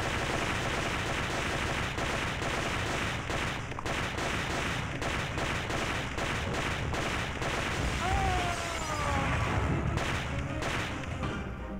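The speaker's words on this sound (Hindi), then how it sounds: "गोलियां चलाने वाले हैवान बस अंधाधुंध फायरिंग कर रहे हैं" Heavy gunfire in a film scene cracks out in dense, rapid bursts of shots over a dramatic soundtrack, loud and sustained throughout, with a brief shout partway through.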